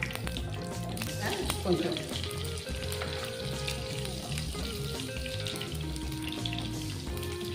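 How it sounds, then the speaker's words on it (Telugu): Green chillies and mustard seeds sizzle and crackle steadily in hot oil for a tamarind-leaf dal, a close, continuous frying hiss with a voice briefly speaking over it and soft music behind. "నూనె వేడెక్కింది. ఇప్పుడు ఈ మిర్చి వేస్తున్నాం. ఆవాలు కొంచెం వేస్తున్నాం."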